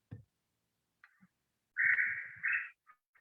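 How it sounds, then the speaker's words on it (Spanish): Night bird calls sound in a quiet nocturnal setting, a few faint chirps followed by a louder drawn-out nasal call with a second short burst, isolated against silence. "Tenemos sonidos nocturnos, como por ejemplo aves."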